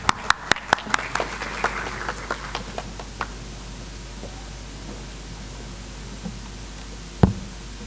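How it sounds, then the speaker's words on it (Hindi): A small audience claps for a poetry performer. A short run of sharp, separate claps thins out within a few seconds, leaving quiet room noise and one last knock near the end. "एक बार संदीप प्रजापति के लिए जोरदार तालियां।"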